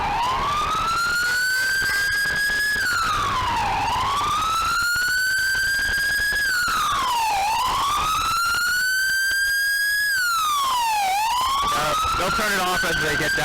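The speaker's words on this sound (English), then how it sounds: "They're just driving through and blaring the siren." A loud emergency vehicle siren wails continuously, rising and falling in repeated long sweeps as the vehicle drives past in town, with occasional voices faintly underneath.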